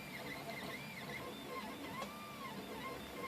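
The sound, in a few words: 3D printer printing a test print on frosted glass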